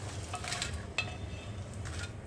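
Dried red chillies frying in a pan for a mash, a soft, steady sizzle with a few light clinks and stirring scrapes close by.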